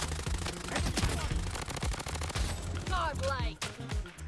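Rapid automatic gunfire from an MP5 with a Cataclysm skin in the shooter game Bloodstrike, dense bursts of shots with sharp metallic clicks and whooshing effects, close and loud under faint background voices.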